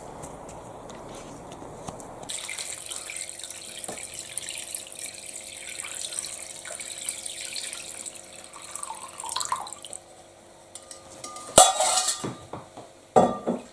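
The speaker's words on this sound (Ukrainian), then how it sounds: "залили рибку водою" Water runs into a container over mackerel, a steady splashing pour that fades, followed by clinks of dishes and a sharp clatter near the end.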